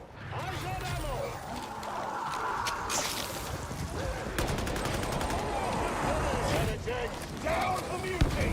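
Rapid gunfire bursts and impacts from the space combat game Elite Dangerous, dense and continuous across the clip, mixed with layered game effects and voices talking over it.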